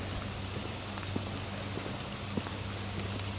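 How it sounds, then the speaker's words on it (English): Light rain starting to fall in Alamogordo patters steadily, with scattered soft drops tapping nearby over a low, constant hiss. "It's starting to rain."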